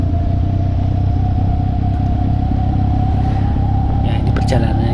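A supermoto trail motorcycle with a small rear sprocket and wide tires rides along a road, its loud, steady engine drone close and continuous while a voice talks over it.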